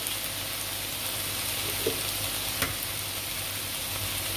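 Ivy greens and two eggs sautéing in a pan give off a steady close sizzle and crackle, with a few soft utensil taps partway through and no talking.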